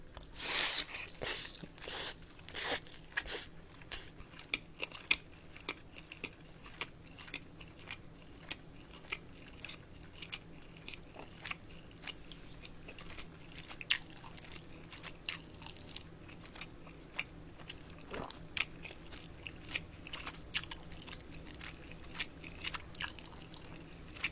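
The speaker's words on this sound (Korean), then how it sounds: "자, 이제 먹어볼게요. 블랙 페퍼로니 피자." Close-up biting and chewing of black Cheongyang pepperoni pizza, with a sharp crunchy bite at the start followed by repeated quiet chewing and crunching sounds spread irregularly over a hushed background.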